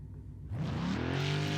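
A Ford Mustang's 4.6-liter V8 in the iRacing sim racing game at Silverstone, starting from a quiet idle and then surging into a loud rising rev that holds with a strong, steady tone.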